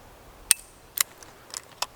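Shots from an S&W 648 .22 Magnum revolver fired at a silhouette target outdoors, four or five sharp, fairly faint cracks spaced irregularly about half a second apart, with no talk.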